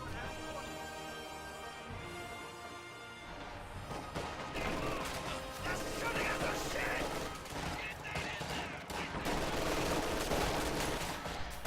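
Sustained machine-gun bursts from an MG42 mixed with heavier anti-tank gun shots in a World War II strategy game battle, dense overlapping gunfire continuing throughout at steady loudness.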